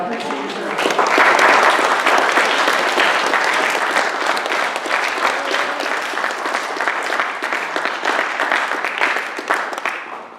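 Sustained audience applause fills a hall during an officers' installation ceremony, rising quickly to a loud, dense wash of clapping that holds steady for about ten seconds before tapering slightly at the end.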